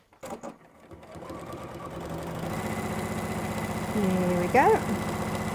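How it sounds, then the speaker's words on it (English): A sewing machine runs steadily, stitching down the short sides of a piece with a continuous mechanical hum that builds gradually after a brief spoken phrase. "now I'm going to stitch down each of the short sides"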